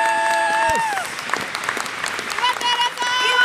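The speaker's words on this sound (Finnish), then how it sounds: "Isot aplodit sille mun päätökselle" Audience applause at a dance event, steady clapping throughout with music tones and a voice sounding over it.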